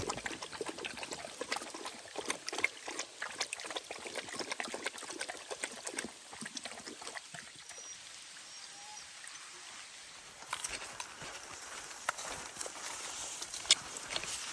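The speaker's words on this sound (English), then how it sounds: "headed past some waterfalls, it sounds like" Waterfall water flowing steadily near a forest trail in the Sipsey Wilderness, a constant hissing rush with scattered splashes and crunching footsteps, moderately close.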